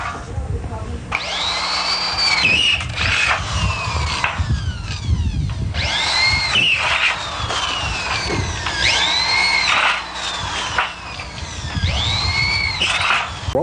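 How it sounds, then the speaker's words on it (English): A hammer drill bores quarter-inch holes about two inches deep into concrete for lead anchors, several loud whining bursts separated by short pauses, with rattling and clunks in between. "What we're doing now is drilling 1/4-inch holes approximately 2 inches deep into the concrete for our lead anchors."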